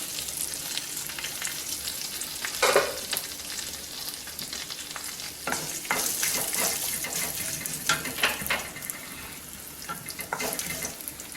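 Mustard seeds, urad dal, cumin and dried red chillies temper in hot oil for sambar, giving a continuous close sizzle with bursts of popping and crackling and occasional stirring or clinking, no talk over it.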